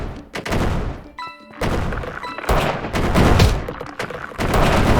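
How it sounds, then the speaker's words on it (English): Sharp explosion bursts from exploding discs in the video game Frisbros, several punchy booms and thuds clustered in quick succession with brief gaps, loud and up front. "now we have the exploding, and the explosions are applied to the phantom discs as well"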